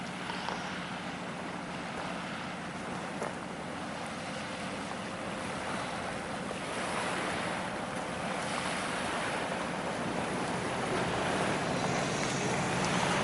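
Steady surf washes along the Gulf of Mexico shoreline on the Texas coast near an old pier, a continuous broadband roar with wind buffeting the microphone and no voices.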